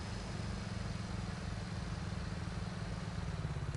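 Tractor engine in Farming Simulator 19 drones steadily with a low, pulsing chug and rough rumble, continuous and fairly loud with no talk over it.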